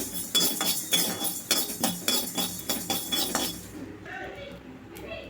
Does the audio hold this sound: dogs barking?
no